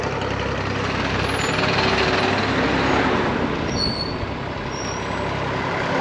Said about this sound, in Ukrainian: Зранку тракторами люди вже везуть продукцію на базу.